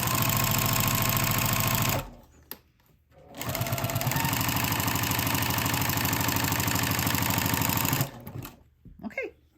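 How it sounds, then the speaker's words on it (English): Sewing machine fitted with a walking foot top stitching vinyl, a steady loud mechanical whirring run that stops briefly around two seconds, resumes, then halts near the end with a few faint clicks. "This is the foot I use, a walking foot, and I'm just going to kind of top stitch that down"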